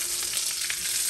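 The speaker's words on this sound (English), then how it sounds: "Toss it around, cook it." Sliced onion frying over medium heat in a pan with chopped garlic, a steady close hiss and sizzle with faint stirring pulses and no voices.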